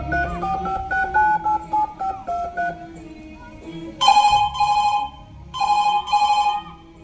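Touch-tone telephone dialing followed by a ringing tone for a call placed from a hospital, heard during a school stage play, with DTMF beeps over background music and then two clear bursts of ringback.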